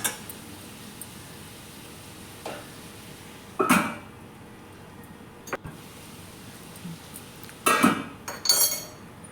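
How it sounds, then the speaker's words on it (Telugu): Prawn curry stirred in a pot, with a few scattered clinks and scrapes of a spoon against metal over a low background hiss, louder bursts near the middle and toward the end, and no voices. "ఇవంతా ముక్కగా పట్టిందాకా బాగా కలుపుకోవాలి."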